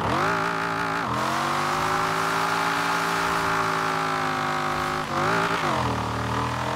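A car in Forza Horizon 4, played with a Thrustmaster T-GT steering wheel, pulls away from first gear. The engine revs loudly and steadily with a rising pitch, and a gear shift or lift comes near the end.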